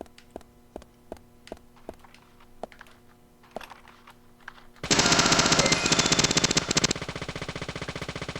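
Gunfire at a shooting range in the video game Deadly Premonition, with a series of single sharp shots spaced out at first, then a loud sustained burst of rapid automatic fire over a steady hum, without voices.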